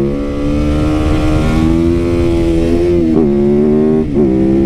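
Motorcycle engine revving loudly and continuously on grass, close and steady, with two sharp throttle blips near the end.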